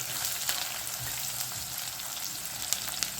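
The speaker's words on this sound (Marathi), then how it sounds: "त्यामध्ये आपण कांदा घालून घेणार आहोत" Chopped onion sizzles in hot oil for a Maharashtrian mixed dal, a dense, continuous crackling fry with small sharp pops, close and alone.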